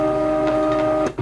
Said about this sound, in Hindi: तो चलते हैं ज़रा, मैं इसको टेस्ट प्रिंट देता हूँ।